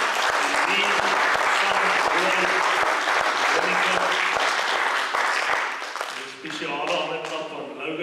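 Church congregation bursts into loud, sustained applause, dense hand clapping filling the room for several seconds before fading as a voice starts speaking.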